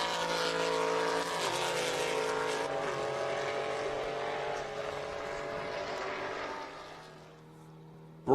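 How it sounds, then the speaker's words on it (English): Aston Martin GT race cars roar past at Road America, a loud sustained engine note with shifting pitch that fades toward the end before a sharp burst of noise. "The two Aston Martins have traded positions, and now Mantella's starting to make a move on Derek DeVore."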